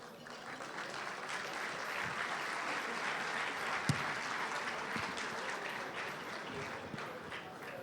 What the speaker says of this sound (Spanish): quien recibimos con un fuerte aplauso